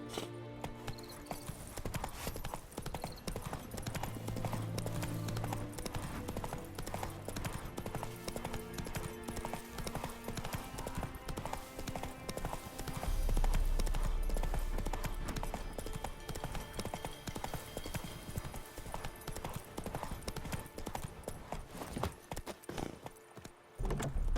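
A horse trots steadily in The Witcher 3: Wild Hunt, its even clip-clop hoofbeats running for a long stretch over a continuous bed of game music and ambience.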